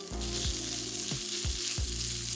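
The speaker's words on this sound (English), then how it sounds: "we're going to throw in some cubed bacon into the same skillet that you used to fry your rib patties" Cubed bacon sizzles and crackles steadily in a skillet still coated from frying rib patties, with a spatula scraping and stirring through it in regular strokes every half second or so.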